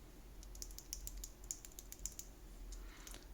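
Typing on an Epomaker HE75 Mag keyboard fitted with Gateron magnetic white switches: a steady run of crisp, light keystroke clicks at close range, fairly quiet, with no talking.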